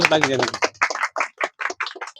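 A small audience at an Independence Day gathering claps for the invited chairman, Shri Gaurelal, as a voice finishes speaking, followed by a quick run of sharp, uneven claps.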